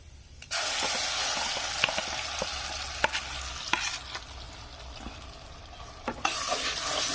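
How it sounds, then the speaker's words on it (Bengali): Lentils stirred while frying in hot oil in a wok, tempered with fennel, nigella and asafoetida; a steady loud sizzle runs throughout with periodic clacks of the spoon against the pan. "ডালটা দিয়ে কিন্তু নাড়তে হবে"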